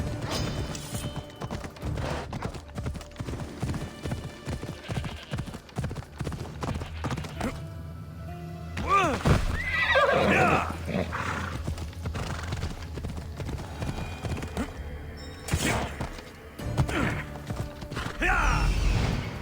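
Hooves clip-clop steadily as a horse gallops in Assassin's Creed Odyssey, with a whinny and creaking gear sounds among game music and occasional voices.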